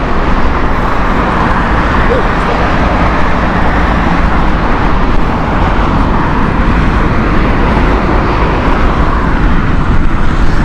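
A loud, steady roar of an Air Canada Boeing 787-9 jet airliner at Heathrow Airport, sustained broadband engine noise filling the whole clip without a break.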